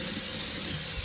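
Water poured into a jar of flour for a sourdough starter, a brief, close, steady hissing trickle heard alone.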